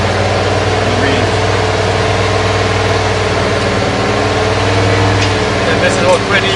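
A car engine idles steadily at close range during an exhaust-gas check, a continuous low hum with a constant tone and no revving, with faint background noise throughout.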